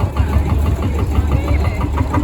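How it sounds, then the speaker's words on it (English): A vintage bale machine's engine runs steadily nearby, a loud continuous low rumble with a faint regular knock. "this is just an amazing piece of machinery, this bale machine"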